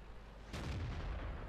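A tank cannon fires in World of Tanks, a single sharp boom that cuts in over a steady engine rumble and then rolls on in a low, heavy tail.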